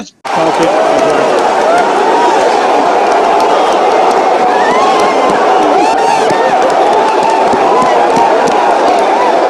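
Loud, continuous crowd of staff cheering and shouting during a SpaceX rocket launch, a dense roar of voices that holds steady throughout after a brief quiet start.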